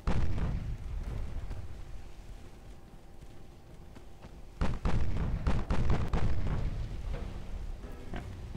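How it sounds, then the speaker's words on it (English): Warship main guns fire in Ultimate Admiral Dreadnoughts naval combat, a continuous low rumble of battle punctuated by a cluster of sharp, loud gun reports partway through, then rolling booms fading off. "Gonna retarget the main guns onto the Musketeer."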